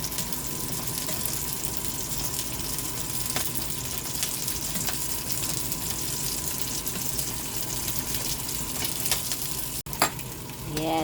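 A pot of tambakol tuna bubbles and simmers steadily with a dense, hissing boil throughout, close up, ending with a couple of small clanks.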